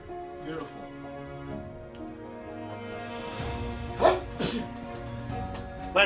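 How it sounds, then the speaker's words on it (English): A person sneezes sharply during a tabletop role-playing game session, two quick bursts near the end against a bed of background music and talk. "You can sneeze on Jay"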